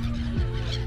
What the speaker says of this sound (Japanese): ものすごい、これカモメか、カモメの量